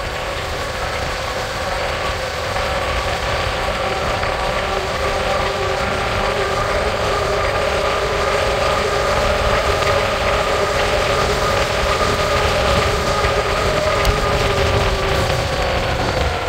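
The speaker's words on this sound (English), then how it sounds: "A lot of wind resistance happening." Steady broadband wind rush from riding an Ariel Rider Kepler ebike at full throttle and top speed in high gear, a constant loud roar with faint motor whine holding throughout and no talking.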